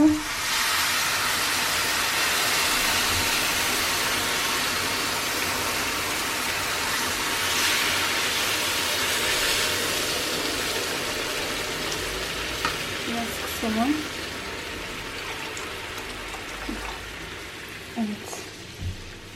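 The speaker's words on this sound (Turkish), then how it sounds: "Suyunu da üzeri geçince kadar döküyorum göz kararı." Water poured into a hot pot while cooking magnolia pudding gives a steady broadband sizzle and hiss that holds for the whole stretch, with a few faint clinks and stirring sounds near the end.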